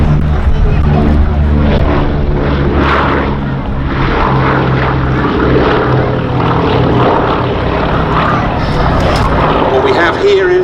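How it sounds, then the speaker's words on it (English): A Boeing B-17 bomber at the Duxford air show drones with a deep, throbbing piston-propeller note that holds steady throughout, while a public-address commentator talks over it. "the only B-17 still flying in Europe"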